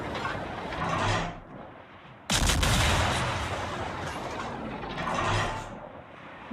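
Naval guns boom in World of Warships, a sudden loud blast at mid-clip with a long rumbling tail, amid ongoing battle noise with softer thumps before and after.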